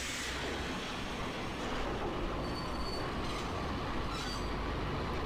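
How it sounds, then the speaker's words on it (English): Train in the video game Max Payne running over the character Max, a loud, steady rumble of rolling wheels and rail noise with faint high squeals, continuous throughout with no talking. "since the train runs Max over"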